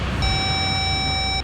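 A single electronic tone sounds when a phone call is cut off, a steady flat beep of just over a second over quiet background, with no talk.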